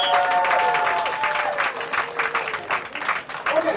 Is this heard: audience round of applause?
yes